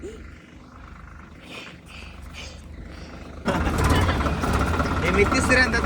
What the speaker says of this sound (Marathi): ट्रॅक्टर मध्ये बसतोय. ट्रॅक्टर हाणतोय. ट्रॅक्टर ड्रायव्हर झालोय मी आता.